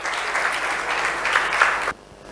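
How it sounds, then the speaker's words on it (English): Audience at a bank conference claps steadily, a dense even wash of applause that cuts off abruptly near the end, leaving quiet room tone. "Can we have a huge round of applause for Mr. Hoffman, please?"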